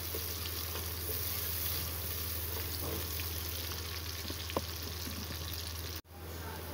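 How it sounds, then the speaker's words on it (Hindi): Onions fry in a pan for a beef dhaleem, giving a steady, dense sizzle with a low constant hum beneath and a faint stir or clink partway through, close by with no talk. "इसको हम थोड़ा सा और फ्राई करेंगे।"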